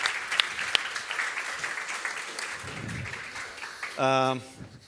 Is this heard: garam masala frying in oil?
no